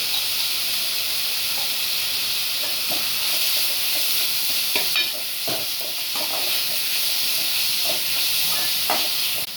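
Ginger and garlic fry with onions in a pan, giving a steady bright sizzle and hiss with scattered crackles and occasional stirring scrapes.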